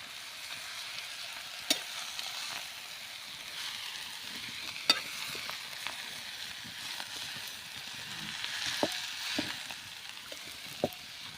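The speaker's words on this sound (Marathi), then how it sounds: "थोडी थोडी करून आपण आता परतून घेऊया भाजी." Fenugreek greens with garlic are stir-fried in a pan, giving a soft, continuous sizzle broken by scattered sharp clicks and scrapes of a spatula against the pan, quiet and close with no talking.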